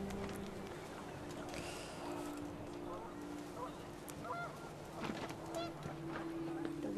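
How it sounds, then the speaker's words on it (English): Panicked geese honk repeatedly at a moderate distance amid wind and outdoor ambience in the video game What Remains of Edith Finch, the calls overlapping in a steady, agitated chorus. "The wind picked up, and panicked geese appeared and quickly went."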